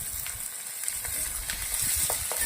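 Onions and capsicum sauté in a pan, with a soft, steady sizzle and scattered stirring taps, faint and close.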